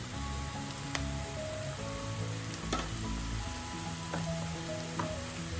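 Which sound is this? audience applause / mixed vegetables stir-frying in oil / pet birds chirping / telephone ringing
mixed vegetables stir-frying in oil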